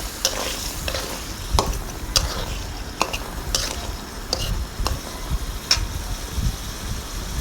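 Hilsa fish head and tail sautéing in a hot pan give a steady close sizzle, broken by repeated scraping stirs and light clinks of a utensil against the pan, with no talk.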